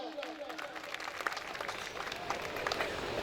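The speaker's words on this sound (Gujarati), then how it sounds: "જોરદાર તાળીના ગડગડાટથી વધાવી લેજો" An audience claps steadily at a Gujarati folk performance honouring Goga Maharaj, a dense, continuous wash of applause from a crowd lasting a few seconds.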